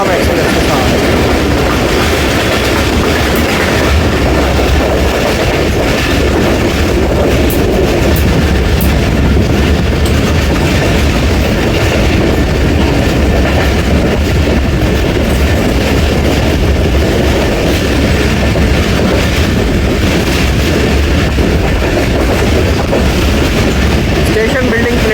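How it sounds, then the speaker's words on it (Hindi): Awam Express running on the tracks past Kala Gujran, a loud continuous roar of rolling wheels and rattling railcars with rhythmic clickety-clack, sustained and close throughout, with faint voices underneath. "झेलम से निकल गई हमारी ट्रेन"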